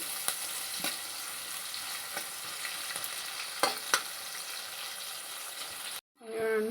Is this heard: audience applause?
no